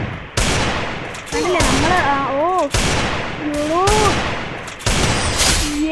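Gunfire in the Free Fire video game: loud, sharp shots crack in bursts at regular gaps, separated by brief lulls, while someone talks over the game sounds.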